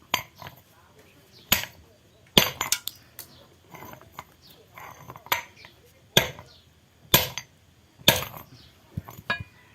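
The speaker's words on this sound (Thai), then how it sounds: "แล้วก็ใช้ค้อนทุบครับ ค้อนใหญ่ๆแบบนี้ครับ" Sharp metallic strikes ring out at irregular intervals, about a dozen heavy blows from a large hammer close by, pounding an object to crack it open, separated by short pauses.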